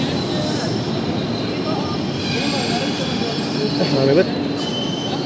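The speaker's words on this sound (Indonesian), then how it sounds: "Dan ini kereta datang dari peron 10 ya." A train pulls in at platform 10 of a busy station, a steady rumbling roar with faint wheel squeal near the end, while people talk nearby.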